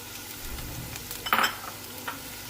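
Chicken goes into a pan of lightly cooked vegetables for a spring roll stuffing, a low steady sizzle with one brief louder burst as the chicken lands, followed by a faint utensil scrape, close and without talk.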